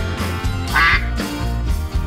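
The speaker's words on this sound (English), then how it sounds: "Duck." Duck quacking from a sea animal toy, a few loud close electronic quacks in quick succession.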